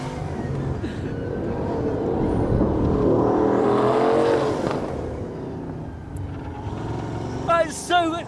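Bugatti Bolide hypercar engine at full acceleration on track, a loud sustained roar rising in pitch with whine and vibration, a brief tonal chirp near the end, over a talking driver.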